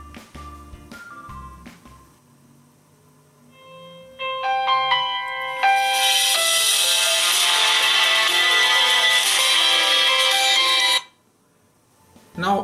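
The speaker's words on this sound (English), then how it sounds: "So I will call on Samsung Galaxy G6 with another phone" A Samsung Galaxy J6 rings with an incoming call, a melodic tone sequence that builds into a bright, sustained chime for several seconds, then cuts off when the call is rejected, preceded by brief soft sounds.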